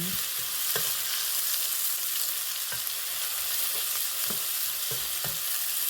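Onions sizzle and fry in a pan with a steady, bright hiss, punctuated by occasional soft clicks of stirring, close up and with no talking.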